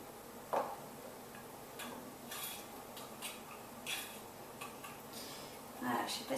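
Cosmetic lip gloss ingredients stirred in a small container, giving a run of light, close clicking and tapping sounds with soft scraping between them, brief clinks at intervals and faint background noise, no talk over it.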